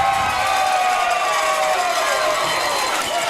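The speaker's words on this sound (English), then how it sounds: "You hear them cheering the ball." A crowd at a high school baseball game between the Belton Tigers and Corsicana Tigers cheers and shouts steadily after a walk, a dense sustained roar of voices that fills the whole moment without letup.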